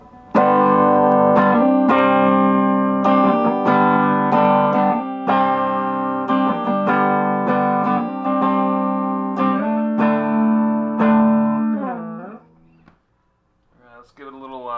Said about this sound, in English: We'll start with the tube overdrive, see what that sounds like.